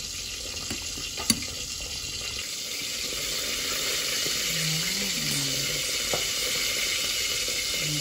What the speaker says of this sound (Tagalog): Kunting kulo na lang po ulit.